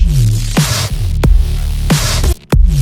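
A loud, dense Serum synth with a gritty, crunchy, heavily squashed tone, pitched sweeps cutting through and a brief dropout near the end.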